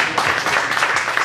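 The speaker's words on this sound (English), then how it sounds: "I really want to give them a round of applause." Audience applause in a cafe screening setting, a steady dense wash of clapping sustained throughout the short stretch, moderately loud with no voices over it.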